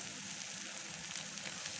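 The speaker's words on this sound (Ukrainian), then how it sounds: "Випікаю на сковорідці для млинців." Steady, even sizzling of khachapuri frying in a pancake pan, a soft hissing crackle that continues throughout without any voices.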